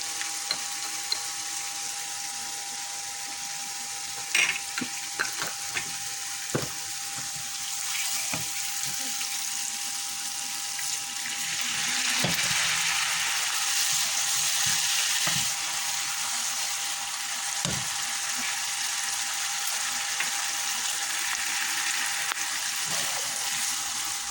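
Koi fish frying in hot oil gives a steady sizzle throughout, with occasional clinks and stirring knocks, growing slightly louder midway as a voice talks over it.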